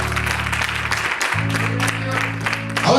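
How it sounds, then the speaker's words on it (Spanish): A church congregation clapping throughout, steady and close, with an amplified voice and sustained music tones underneath. "Denle un aplauso a Cristo"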